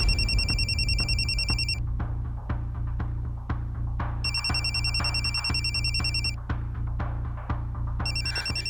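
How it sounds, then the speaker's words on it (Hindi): A phone rings in repeated electronic bursts, pausing between rings, over a low steady hum and occasional soft clicks. "रोहित का फोन"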